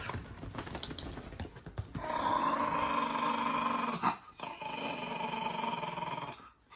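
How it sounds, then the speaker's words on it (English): A dog growls close by in long, rumbling stretches, with a short pause and a snort-like break between two sustained growls. "you still barking and growling at him"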